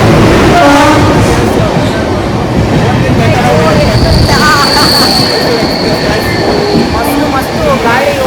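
A train rolls past close by with its horn sounding, loud clattering wheels and squealing under a sustained horn blast, while people talk over the noise.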